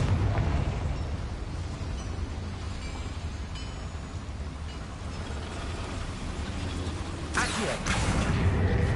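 A Confringo blasting spell explodes in the game Hogwarts Legacy: a dense, continuous rumbling crackle with a grinding, mechanical texture, broken near the end by one sharp, bright burst that stands out loudly over the steady roar.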